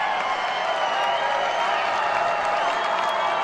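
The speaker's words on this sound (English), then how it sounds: "And now you can hear that Madison Radicals crowd coming way into it." Madison Radicals home crowd roaring at an ultimate frisbee game, a steady dense wall of cheering and clapping that holds loud and unbroken throughout.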